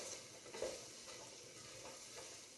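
Pieces of mutton fry in a pan with chili powder and spices for a Tamil Nadu style dish, sizzling steadily throughout with a few faint stirring scrapes, quiet and close.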